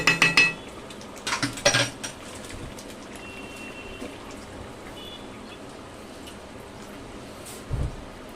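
Pumpkin halwa with sugar and milk is stirred in a pan: a few bright metallic clinks and scrapes of a spoon against the pan near the start, then quiet with a faint low knock at the end.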